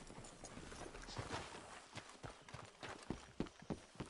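Horses' hooves clip-clop in a Western game set in Red Dead Redemption II, a steady walking rhythm of soft, close hoofbeats with faint background sounds.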